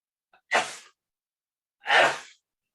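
Two breathy, explosive bursts from a person, a small catch then a short sneeze, followed after a pause by a second, longer sneeze-like exhale, close and fairly loud in an otherwise quiet room.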